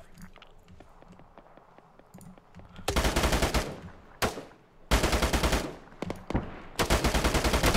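Bursts of automatic gunfire from the video game ARMA 3, several loud rapid strings of shots separated by quieter stretches of distant scattered fire.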